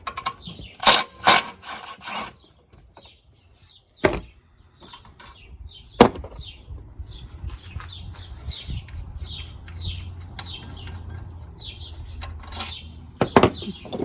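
Ratchet wrench loosening the 15mm alternator mounting bolts on a Chevrolet Silverado: a few quick clicking bursts early on, then scattered faint metallic clicks and taps over low background hum.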